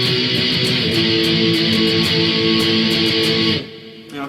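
Electric guitar strumming chorus A, a steady sustained strummed chord pattern with rhythmic accents, played loud and close before stopping abruptly near the end.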